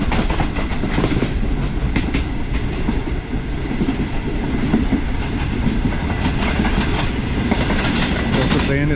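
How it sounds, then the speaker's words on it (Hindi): Green Line economy-class passenger train running on rails between Lahore and Rawalpindi, a steady loud rolling roar with rhythmic clickety-clack of wheels over rail joints throughout, heard from inside a coach. "ट्रेन इस वक्त हमारी लाला मूसा जंक्शन की तरफ बढ़ रही है"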